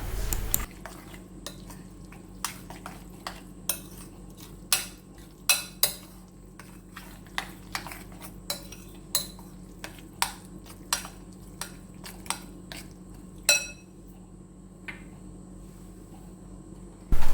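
Grated carrot is stirred into a mixture in a pan, giving a steady series of distinct spoon scrapes and metallic taps against the pan over a faint background hum.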